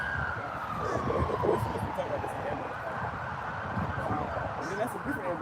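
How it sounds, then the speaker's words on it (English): An ambulance siren, a blue and white ambulance, wails past with a long sliding tone over steady traffic noise and moderately loud street ambience. "That's a different ambulance. That's a blue and white ambulance."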